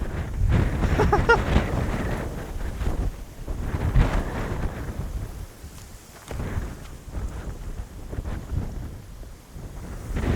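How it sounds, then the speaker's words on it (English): Strong wind buffets the microphone on a disc golf course, a continuous loud roar with gusty surges throughout. "That is windy."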